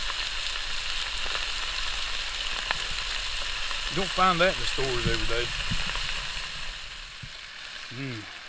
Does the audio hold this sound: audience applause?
no